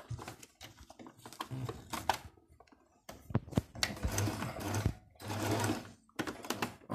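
A sewing machine stitches back and forth on a fabric face mask in short, rapid whirring bursts separated by brief pauses, close and alone with no talk.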